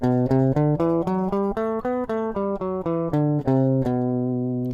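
A Phrygian mode scale of plucked or keyed notes played one after another in an even rhythm, stepping through the mode and ending on a sustained final note.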